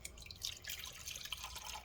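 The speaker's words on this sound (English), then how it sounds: "Now we're gonna pour out 5 cups" Water poured in a steady, faint trickling stream into a silicone food storage container, about five cups' worth, with dripping and splashing throughout and no voices.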